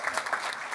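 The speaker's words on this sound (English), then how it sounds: "Thanks for all the claps." Audience applause for a speaker at a talk on oligometastatic sarcoma pulmonary disease, a brief, steady wash of clapping with no voices over it.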